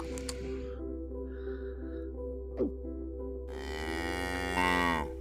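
Cow mooing in the puzzle video game Cube Escape Rusty Lake, a long drawn-out bovine moo near the end over a steady low hum, with a brief tonal blip and a faint short call earlier.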